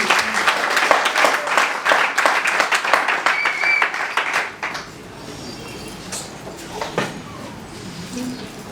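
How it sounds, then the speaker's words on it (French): Wedding guests at a civil marriage ceremony applaud loudly for about five seconds in dense, steady clapping, which then fades into quiet room ambience with scattered faint claps and murmurs. "Acclamez donc pour la sincérité des disciples."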